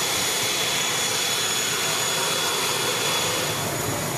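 A small propeller plane's engine drones loudly at a tiny airport, a constant close roar with a thin steady whine above it, unbroken for the whole stretch.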